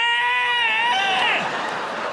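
A voice imitates a strangled, muffled scream for help during a live stand-up comedy show. It is a wavering, high, bleating 'aah' that slides downward and then trails off.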